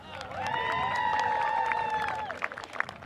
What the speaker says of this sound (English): We found the cheer section.